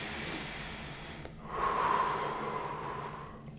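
A deep breath during a handstand mobility exercise: a steady airy exhale or inhale that swells in the middle and tapers off, close to the mic, with a brief catch before it.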